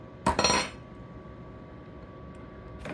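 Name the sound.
spoon clinking against dishes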